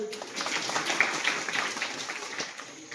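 Applause from an audience at a village public awareness talk by a police officer, a dense patter of many hands, moderately loud and steady for a few seconds.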